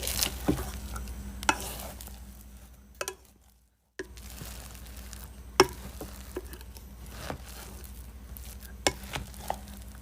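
A mixture for pistachio kataifi burfee cups being stirred on a hot plate until dissolved, with quiet scraping and occasional sharp clicks of a utensil against the pot, a brief dropout midway, close and without talk.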